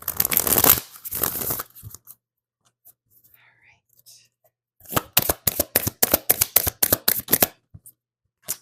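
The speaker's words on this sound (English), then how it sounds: "I am shuffling up the cards for you" Tarot cards are shuffled in rapid riffling bursts, first briefly and then as a long run of quick close snaps after a near-silent pause, with soft speech between.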